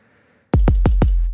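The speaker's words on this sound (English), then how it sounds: "kick sounds like this." Electronic kick drum from a sequencer driving a modular synth: four deep booming hits in quick succession, each a punchy low thump with a noisy tail, loud and alone.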